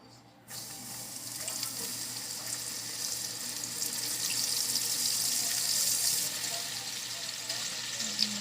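Flour-coated jalapeno strips for Texas toothpicks drop into hot oil and settle into a steady, dense, hissing sizzle that swells slightly midway and holds for several seconds, close and continuous with no talking.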